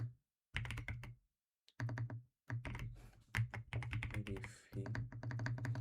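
Fast typing on a computer keyboard, bursts of crisp key clicks in uneven runs separated by brief pauses, close and fairly quiet.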